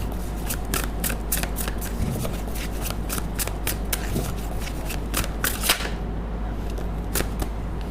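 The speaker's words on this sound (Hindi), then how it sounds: "जब तक मैं कार्ड को शफल कर रही हूँ अपने पर्सन के बारे में सोचिए" A deck of tarot cards shuffled by hand, close and steady, with quick repeated riffling flicks running throughout and a brief lull near the end, no speech.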